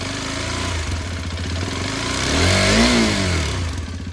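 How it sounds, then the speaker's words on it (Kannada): A motorcycle engine runs close up as its engine sound is shown, idling steadily with a rapid mechanical patter, then revving up into a swelling roar before settling back, no speech over it. "ಒಳಗಡೆ ಇಂಜಿನ್ ಸೌಂಡ್ ಒಂದು ತೋರಿಸ್ತೀನಿ"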